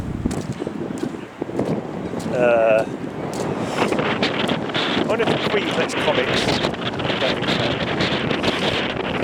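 Heavy wind buffets the microphone with a constant low rumble while someone talks over it on an outdoor walk.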